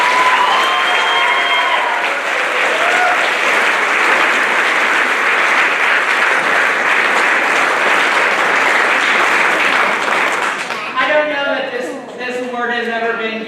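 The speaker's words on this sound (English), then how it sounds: "Give him a round of applause." Loud, sustained applause from a large crowd at a spring band concert fills the room, with clapping and a few cheers before it thins out near the end as a voice starts speaking.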